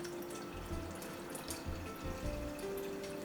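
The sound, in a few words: pouring water into dal in a cooking pot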